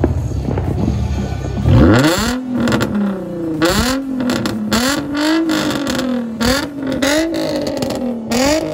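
A van being driven off, its engine revving and pulling away with rising gear whine, loud and close, over several accelerations.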